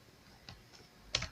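Soft, sparse keystrokes on a computer keyboard while a database query is written: two or three faint clicks spaced out over a quiet background hiss, the last one slightly louder.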